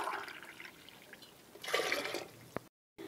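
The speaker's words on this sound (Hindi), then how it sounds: "अब इसको धोने के बाद आपने इसमें पानी डाल देना है" Water is poured into a pressure cooker holding washed lentils and chopped bottle gourd, a soft splashing gush that swells briefly in the middle, fairly quiet, with no talking.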